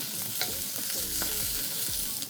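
Prawns stir-frying in a hot wok, with steady close sizzling and the scrape and clatter of stirring running through the whole stretch.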